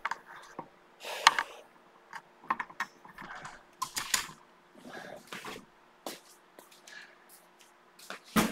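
Clicks from a computer keyboard come in irregular bursts and single taps, close and fairly crisp against a quiet room, with no talking.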